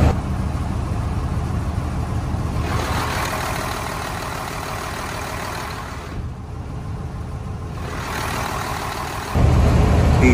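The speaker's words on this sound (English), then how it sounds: "Check out just how much sound the engine hood inside the bus deadens." A school bus engine runs steadily with the engine hood in place inside the bus, a continuous low idling rumble that holds for about nine seconds and then grows slightly louder and brighter near the end.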